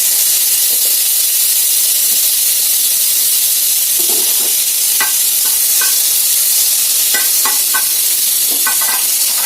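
Butter melts in a hot pan for egg rice with a loud, constant hiss and sizzle. Light scrapes and spatters are scattered throughout as it is stirred.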